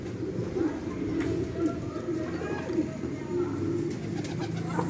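Pigeons coo repeatedly near a rooftop flock of domestic pigeons as they wheel and fly, with soft wingbeats and people talking over the steady bird sounds.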